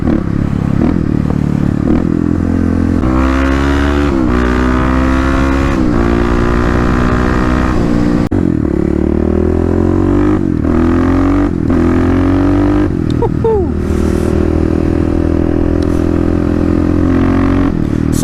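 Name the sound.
Kawasaki KLX351 motorcycle engine revving with lidless airbox intake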